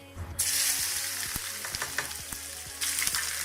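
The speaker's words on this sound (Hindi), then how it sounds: "अभी हम इसमें प्याज ऐड कर रहे हैं।" Sliced onions dropped into hot oil with fried cumin in a pan, a loud sudden sizzle that keeps crackling steadily, with a stirring clatter and a fresh surge of hissing near the end.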